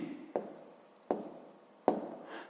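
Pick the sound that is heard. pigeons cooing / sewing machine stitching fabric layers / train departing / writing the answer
writing the answer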